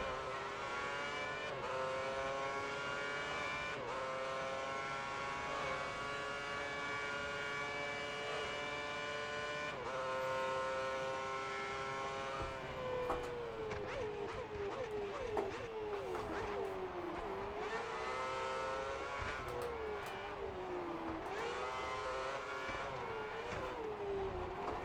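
A Formula 1 car laps the Turkish Grand Prix circuit in F1 2010, its high-pitched engine whining steadily, then rising and falling through gear changes and corners, loud and continuous throughout.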